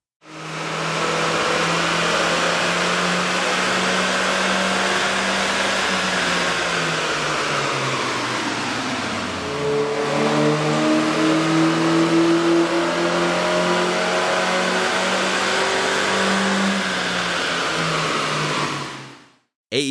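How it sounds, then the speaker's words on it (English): A 1.5-liter Honda CR-Z engine on a dyno is revved loud and near, once with the stock intake and once with an AEM air intake. Each run sweeps upward in pitch and roars steadily, with a brief dip between them. "Here's a comparison of the car sound on the dyno with the stock OEM system versus AEM's air intake."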